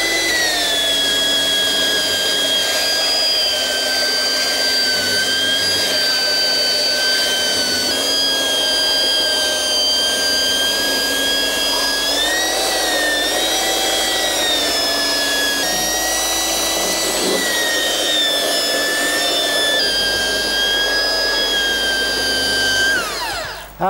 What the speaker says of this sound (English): all that remains at this area is to fair that in with the belt sander, which I'll proceed to do